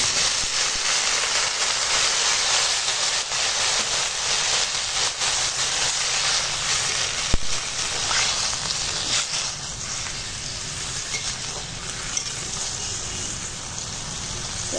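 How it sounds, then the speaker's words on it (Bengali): Water poured into a sautéed spiced Bengali curry in a cooking pan, giving a steady broad sizzling hiss that continues throughout with a few faint clinks. "কষানো হয়ে গেছে, এবার জল দেব।"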